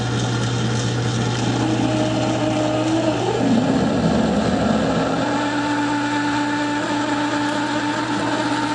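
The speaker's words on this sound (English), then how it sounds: "I slowed the lathe down, oil this thing up, and we'll see how it cuts" Steady machine drone of a metal lathe slowly cutting soft steel while oiled for a four-spoke quill handle, with a constant low hum and shifting tonal whine from the cut, continuous and fairly loud throughout.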